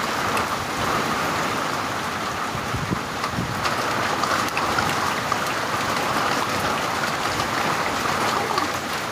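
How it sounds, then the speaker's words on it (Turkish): Hail and heavy rain pound down outdoors on a garden in a violent storm, a dense, loud, unbroken hiss with scattered sharper impacts and some wind buffeting the microphone. "Dolu yağıyor, dolu."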